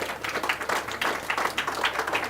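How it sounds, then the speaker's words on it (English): An audience claps steadily for a company at an industry knowledge-sharing event, producing a dense, even wash of applause with no voices over it. "we need to give Multotec a round of applause for what they've done."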